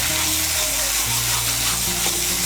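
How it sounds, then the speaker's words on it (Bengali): Spice masala fries in a pan with sour yogurt stirred in for a Bengali jackfruit curry, making a dense, steady sizzle with soft stirring underneath. "টক দইটাকে ভালো করে মিশিয়ে নেব। মিশিয়ে নিয়ে মশলাটাকে আর একটু ভালো করে কষিয়ে নেব।"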